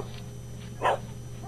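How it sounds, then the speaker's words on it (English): Over a phone line with a steady electrical hum, a single short dog bark comes through muffled and fairly distant, standing out briefly against the quiet background. "I can't hear you. I have dogs."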